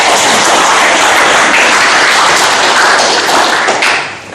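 A seated audience at a government budget handover ceremony in Bojonegoro breaks into loud, dense sustained applause that fills the whole stretch before tapering off at the end.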